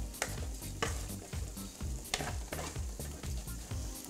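Sweet potato fries coated in cinnamon are stirred in a hot pan, giving a steady close sizzle broken by repeated scraping strokes and clicks of the utensil, with no voices.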